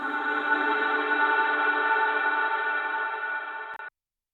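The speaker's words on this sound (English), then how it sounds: "I just took this tuned part of the sample and I put it through that same reverb" A dense, reverb-soaked vocal texture holds steady for a few seconds with layered tones, then cuts off abruptly into silence.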